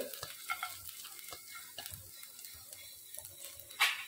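Sliced garlic fries in oil in a pan with a quiet, intermittent sizzle, punctuated by soft stirring scrapes and clinks of a utensil against the pan.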